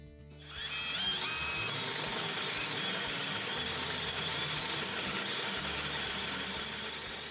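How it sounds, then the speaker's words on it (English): A power drill whirs steadily as a Forstner bit bores a hinge hole into a wooden cabinet door, a loud, sustained grinding whine that runs for several seconds without pause. "you take your Forstner bit and centered on that hole there, you go ahead and drill out"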